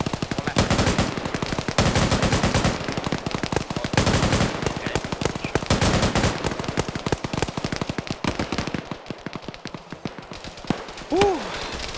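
Rapid bursts of automatic gunfire in an online team shooter video game, loud and close, with dense cracking volleys running almost continuously and a brief whistling effect near the end.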